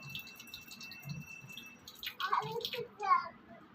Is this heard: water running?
yes